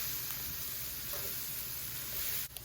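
Seasoned meatloaf mixture cooks down in a pan with a faint, steady sizzle, and a small knock near the end.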